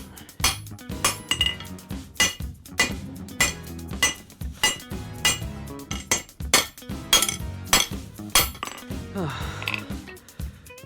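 Hot steel hammered over an anvil horn while forging a ball punch: a steady series of loud, ringing metallic blows in an uneven rhythm, close up.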